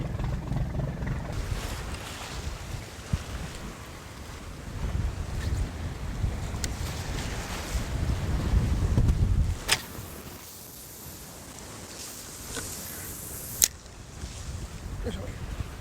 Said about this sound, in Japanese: さあこれから猛烈に吹くよ風。